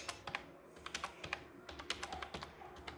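Rapid keystrokes on a computer keyboard as a file name is typed, a steady run of sharp, close clicks and taps with uneven rhythm and no voices.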